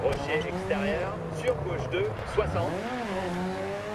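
A rally car in the DiRT 4 video game accelerates gently, its engine note rising and falling with brief tire squeals, under a voice talking throughout.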